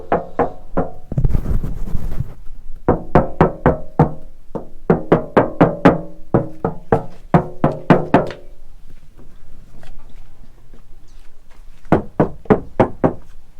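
Knuckles rap on the poorly insulated rear door of a Toyota Tacoma, giving a hollow, tinny metallic knock. The sharp knocks come close and loud in quick bursts of three to six, separated by short pauses.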